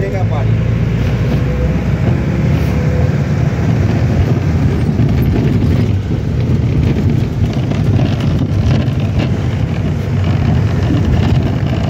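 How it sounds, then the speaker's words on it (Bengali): The Ooty toy train rolls past nearby, heard as a loud continuous rumble of wheels and carriages that runs steadily throughout. "Ooty toy train"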